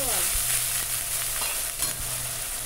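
Spice paste of garlic, chilli powder, turmeric and salt frying in oil for a Bengali rui fish mustard curry, a dense close sizzle with brief stirring scrapes, no speech.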